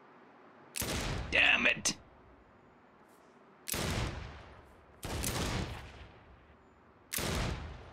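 Gunfire in the Saints Row video game comes as four sharp, loud bursts spaced a couple of seconds apart, with a quieter game backdrop between them and a voice shouting briefly over the first volley.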